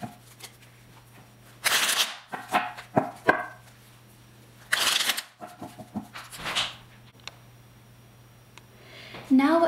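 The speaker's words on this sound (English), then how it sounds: "first shuffle your cards" A deck of playing cards is shuffled in a few quick riffling bursts, each a short crisp flutter separated by quieter gaps and small handling clicks, close to the mic over a low steady hum.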